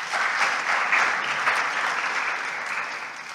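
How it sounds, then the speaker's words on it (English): Audience applause at a church sermon, a steady wash of many hands clapping at moderate loudness, sustained throughout and easing slightly toward the end, with no talk over it. "Give her a clap."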